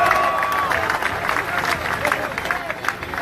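A crowd at an outdoor campaign rally applauds steadily, a dense wash of clapping and murmur heard at a moderate distance, with a faint whistle near the start.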